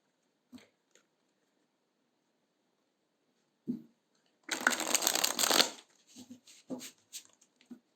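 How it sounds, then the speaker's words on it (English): A deck of cards being shuffled in a quick riffling burst, with a few soft taps and shuffles before and after in a quiet room. "Let's shuffle a bit more."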